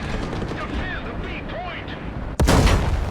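A single loud tank gun blast erupts near the end of a War Thunder battle featuring a British Tiger tank, Excelsior, following a steady background engine rumble with whistling game sounds.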